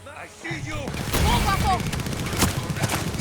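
Rapid bursts of gunfire in the video game Far Cry 6, loud cracking shots repeating over a steady rumble, with a voice talking over the start.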